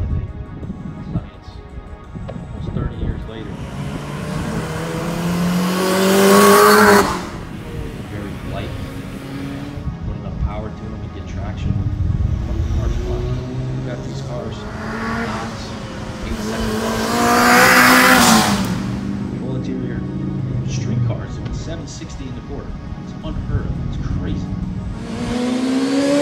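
Honda CRX engine revving while being driven, with two strong surges of rising revs that climb and fall away, between stretches of steadier running, and someone talking over it.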